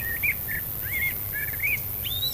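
Several birds sing from a natural hedge on a dairy goat farm in the Vienne, giving repeated short whistled chirps and rising phrases at moderate distance over a steady low rural background hum.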